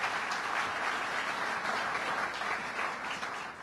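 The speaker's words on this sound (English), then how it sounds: "Let's give him a round of applause, Robert Megna." Steady, dense applause from a crowd at a governor's budget address in Westchester fills the whole stretch, loud and continuous with no talk over it.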